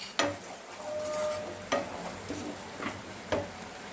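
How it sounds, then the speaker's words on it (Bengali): Ground spice masala is stirred and fried in a pan for pomfret fish curry, with soft sizzling and a few sharp spoon scrapes and taps at irregular intervals. "এবার আমি দিয়ে দিচ্ছি মশলাটা গুঁড়ে রেখেছিলাম, সেটাকে দিয়ে ভালো করে কষিয়ে নিচ্ছি।"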